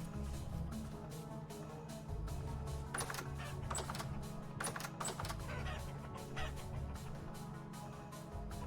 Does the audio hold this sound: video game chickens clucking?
yes